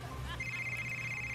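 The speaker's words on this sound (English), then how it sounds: "the phone's ringing" A telephone rings in a horror video game, a steady electronic trill over a low droning hum, close and fairly loud, with no talking.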